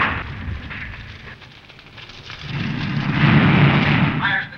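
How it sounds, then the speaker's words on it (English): Shipboard fire in an old radio drama: a low roaring rumble with crackling noise that swells from midway and grows louder, loud and close, filling the scene like a blaze in a ship's hold. "Fire's been discovered in the hold"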